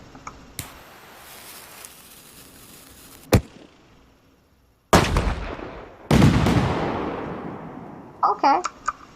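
Fireworks in the video game Fireworks Mania: sharp launch cracks, then loud bursting explosions with long crackling, sizzling tails, and a few quick pops near the end, separated by quiet gaps.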